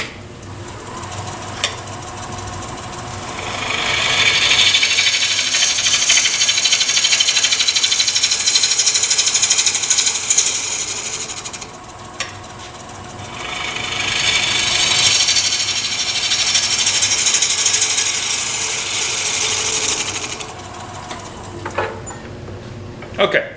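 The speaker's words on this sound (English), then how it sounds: "So let me make a couple of facing cuts to get this surface flat." A bowl gouge makes facing cuts across a wooden blank spinning on a lathe, giving two long, loud, hissing scraping passes with a pause between them over the steady hum of the machine.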